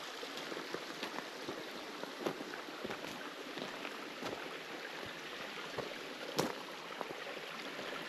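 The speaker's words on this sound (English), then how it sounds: "Fresh water, literally, this water would be so pure coming from the mountains." A mountain stream flows in bear country, a steady faint broadband babble of water with scattered small splashes and ticks, close and continuous, with no talk.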